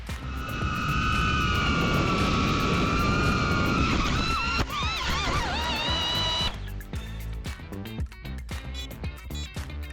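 A Cinebot30 FPV drone carrying a GoPro Hero 11 Mini whines loudly with high motor tones that waver and dip, then cuts off into a scatter of clattering knocks and bumps as it lands.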